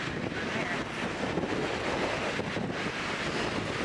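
Strong wind roars across a mountain summit on a freezing morning at Clingmans Dome. A steady, dense rush buffets the microphone the whole time, with no break.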